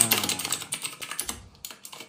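Rapid keyboard typing, a run of close, crisp key clicks in an uneven rhythm with brief pauses, heard alone without speech.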